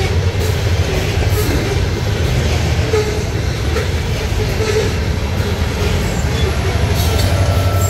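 Freight train 7023 on the Davenport Subdivision, a loud continuous rumble of rolling wagons and low engine drone heard close by, steady throughout.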